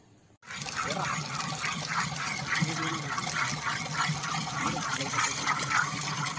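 A new Selkon impeller air pump runs steadily, pushing water with a continuous gushing, filling rush; the flow is loud and close, and low voices murmur underneath.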